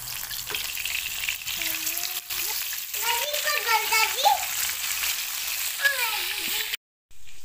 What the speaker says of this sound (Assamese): ইয়াতে মাছখিনি ফ্ৰাই কৰি ল'ম।